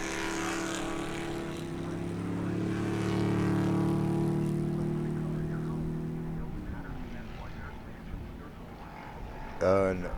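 Race cars in the SARRC GT and SC classes roll out onto the Daytona banking, their engines a steady, layered drone that swells and then eases off, with a short louder burst near the end.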